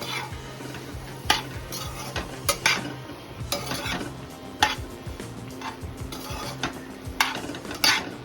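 Peeled potatoes stirred in a pan for a potato and tomato curry: a spoon scrapes and clicks against metal in irregular strokes over a soft frying sizzle, up close.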